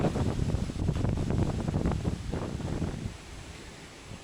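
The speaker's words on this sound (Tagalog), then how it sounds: "Hindi ko naman alam na hangin ng napakalakas." Strong wind gusts outdoors and buffets the microphone with a low, rumbling roar, then drops away sharply near the end and leaves a faint hush.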